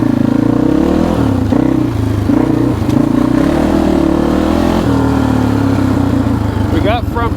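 A DS 650 ATV with an owner-rebuilt top end runs while being ridden, its engine loud and close, the pitch rising and falling as the throttle is worked, with some clattering along the way.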